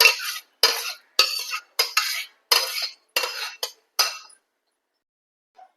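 A spoon stirring cooked moong dal into sago payasam in a steel pot, a series of about eight sharp metallic clinks and scrapes in quick irregular strokes, close and clear, then silence.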